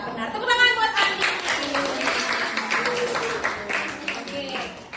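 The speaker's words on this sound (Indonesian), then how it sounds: "Tepuk tangan buat Andi." A classroom audience applauds for a student named Andi during a school lesson on the Islamic funeral prayer, scattered clapping swelling quickly and then thinning out over several seconds, with voices talking under the clapping.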